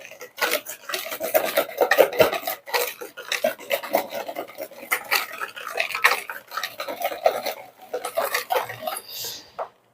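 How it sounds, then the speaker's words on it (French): Spoon stirring apple filling for a traditional Normandy apple tart in a bowl, with steady scraping and clinking strokes, close and fairly busy throughout. "On remue."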